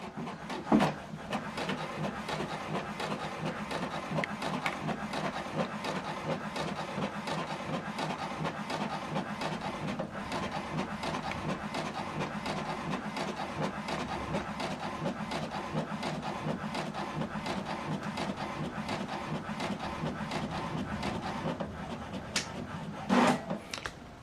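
An HP Deskjet 2820e inkjet printer printing a document, a steady mechanical whirr and rumble with repeated rubbing and clicking of the paper feed and print head, ending in a couple of sharper clunks.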